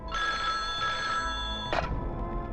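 A telephone rings in the Hindi film Khalnayak: bright, bell-like trills repeat steadily for about two seconds, followed by a short clatter, loud and alone with no talking.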